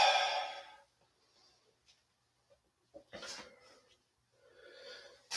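A person exhaling during yoga practice, a soft breathy release followed by quiet pauses and another audible breath burst near the middle, close and faint with a few small breath sounds around it.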